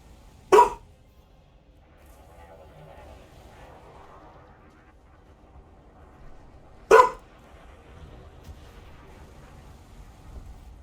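A dog gives two sharp, loud single barks about six seconds apart, close by, over a quiet background with faint game sounds.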